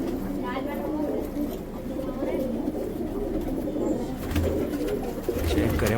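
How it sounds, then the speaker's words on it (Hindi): Pigeons kept on a rooftop, including birds reserved for fighting, coo and stir steadily throughout, mixed with nearby voices talking and a low outdoor background murmur. "कबूतर तो माशाल्लाह बहुत हैं इस छत पे"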